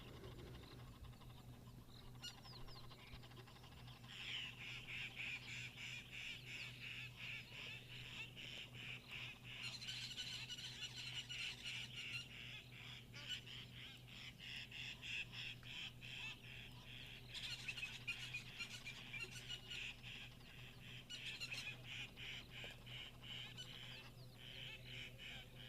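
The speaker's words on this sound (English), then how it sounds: "Just like these pretty Egyptian geese." Egyptian geese calling outdoors, bursts of harsh honking and chattering in several long bouts at moderate distance over a constant low background hum, with no talking.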